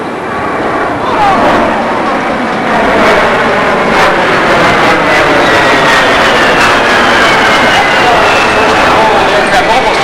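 A 1992 A-10A Thunderbolt II jet aircraft from Davis-Monthan AFB pitching up for landing on an airshow arrival, a loud continuous jet engine roar with shifting whining tones, close and sustained throughout.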